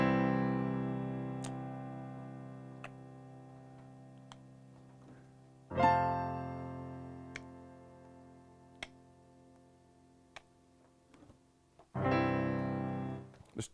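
Piano passage played slowly at half tempo against a metronome: three sustained chords struck several seconds apart, each ringing and fading, with faint regular metronome ticks between them.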